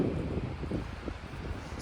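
Steady wind noise buffets the microphone outdoors on the beach at Jelitkowo, Gdańsk, at minus two degrees, a continuous low rumble with no voices.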